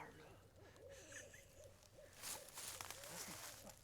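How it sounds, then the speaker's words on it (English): Two owls hoot back and forth in a Kentucky woodland during a public land hunt, one nearer and one farther off, with repeated low calls over faint rustling. "We got 2 owls fired up."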